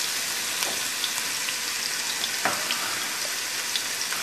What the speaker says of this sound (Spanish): Vamos a esperar que se fría esto.